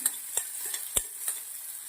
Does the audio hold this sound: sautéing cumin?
yes